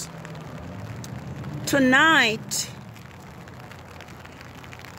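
Steady rain falling as a continuous hiss of drops throughout, with a brief spoken word rising over it near the middle.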